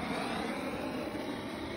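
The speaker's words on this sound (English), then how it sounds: "blowtorch." A blowtorch flame used on the cut edges and chamfers of wood gives a steady, even roar, close and moderately loud, with no voices.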